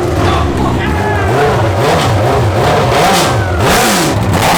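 A Honda CBR1000RR motorcycle engine swapped into a 1972 Honda N600 runs loud and close, revving up and down in repeated surges, with voices audible underneath.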